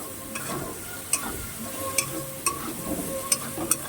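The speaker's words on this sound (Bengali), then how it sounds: "চিংড়ি মাছটাকে এবার ভালো করে লাল লাল করে ভেজে নিতে হবে। কিন্তু অনাবরত একটু নাড়তে হবে" Prawns fry in a pan while being stirred constantly, a soft continuous sizzle punctuated by sharp, regular clinks and scrapes of the spatula against the pan, close and free of speech.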